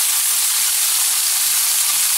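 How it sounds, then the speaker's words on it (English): Garlic and thyme fry in a hot pan while wild perch is prepared Mediterranean style, giving a steady, close, bright sizzle that hisses on without a break and with no voices over it. "when you put the thyme on the pan, it's gonna start cooking, frying"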